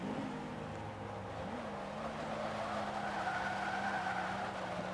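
A Rolls-Royce Wraith in Forza Motorsport 5 drives with a steady engine drone and a rising tire squeal as it skids through a corner, with no voices.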